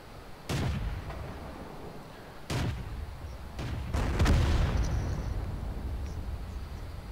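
Heavy tank cannon shots in World of Tanks, with three or four loud booming blasts at irregular intervals, each followed by a rumbling decay over continuous low battle noise.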